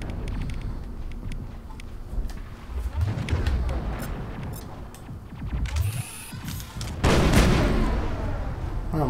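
Repeated gunfire from the science-fiction shooter Mass Effect rattles in uneven bursts over game noise and music, with a stronger volley near the end, while someone talks over the action.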